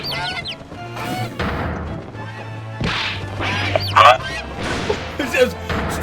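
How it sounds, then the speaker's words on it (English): Chickens squawking and flapping in a courtroom in the video game The Great Ace Attorney, with a few loud honking squawks and sharp whacks over a low game music tone, with no talk. "There's chicks in the courtroom. Get those chickens out of here."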